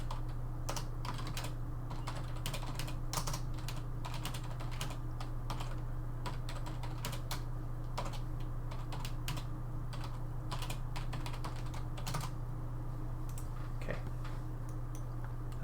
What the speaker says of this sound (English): just going to type in the chat.